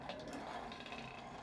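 A hand crank being turned in a blacksmith's smithy gives a steady mechanical ratcheting, gear-like whir, close and continuous for a moment with no talk.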